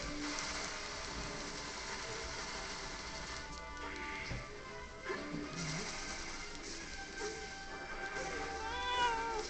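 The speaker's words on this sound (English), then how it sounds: "I don't remember this boss having a cat." A cat meowing during a boss fight in the Ruined Zoo stage of Super Smash Bros. Brawl's Subspace Emissary, faint cries woven into dense, continuous game music and effects.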